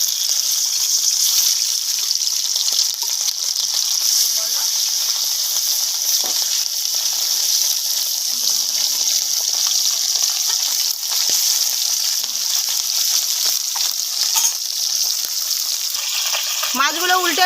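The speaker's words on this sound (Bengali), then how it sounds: "বাকি মাছগুলো কড়ার মধ্যে দিয়ে একইভাবে ভেজে নিচ্ছি" Bata fish frying in hot oil in a kadai give a loud, close, continuous sizzle that holds steady throughout, with faint kitchen clinks underneath.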